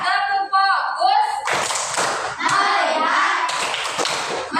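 Children in an Indonesian classroom chant and clap out rhythmic patterns together, loud and close, with bursts of hand claps and taps woven between their voices.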